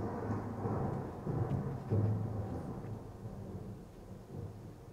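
Evening thunderstorm over Sylhet, Assam, with low rumbling thunder rolling continuously through steady rain, swelling to a louder peak midway and then easing; no voices.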